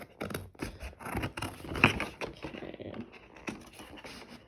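Scissors snip loose threads around the edges of a handmade journal folio, a few crisp close cuts and paper rustles in a quiet room, with no talking.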